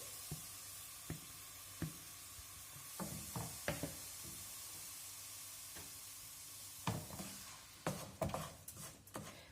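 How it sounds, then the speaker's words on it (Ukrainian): Apples sizzle as they stew in butter in a frying pan: a steady, faint frying hiss, with soft clicks and knocks from stirring scattered through it and a cluster of louder clatters near the end. "висипаю сюди всі ці яблучка, щоб їх протушити"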